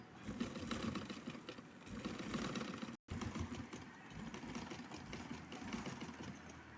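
A sewing machine stitches lace onto fabric in a busy, rapid mechanical chatter, running in two bursts split by a brief stop, moderately close.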